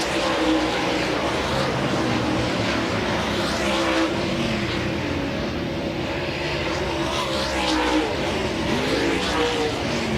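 Dirt track race cars roar through a hot lap session at Volusia Speedway Park during the DIRTcar Nationals, their engines a loud, continuous drone that rises and falls as they pass.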